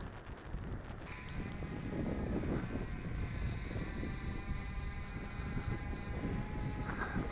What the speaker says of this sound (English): there's a steady breeze right in my face